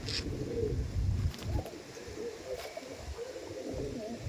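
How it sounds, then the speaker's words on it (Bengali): Two male Andhra pigeons coo softly close by, giving a few low throaty calls over faint background noise. "এই দেখুন পায়রা, দুটোই নর পায়রা"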